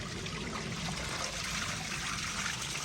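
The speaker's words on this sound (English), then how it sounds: "Natural flowing spring." A natural flowing spring in Jamaica trickles steadily, a continuous close babbling of running water with no breaks or voices.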